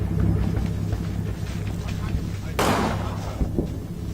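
Artillery fire from a 105 mm gun in the Combat Mission Final Blitzkrieg war game, one sharp loud blast landing mid-clip over a steady low rumble of battle noise.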